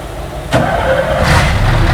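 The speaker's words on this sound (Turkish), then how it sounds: "Kamyonun sesini de yaptırdık arkadaşlar." A modified Ford truck engine in Euro Truck Simulator 2 starts with a sudden loud burst, then settles into a steady, heavy idle rumble.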